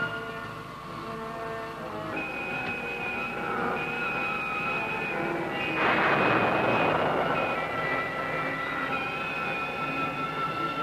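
A spacecraft engine roars in a science-fiction film, a steady droning thrust with rising tones that swells into a louder, broad rushing blast midway and holds there, with no talk over it.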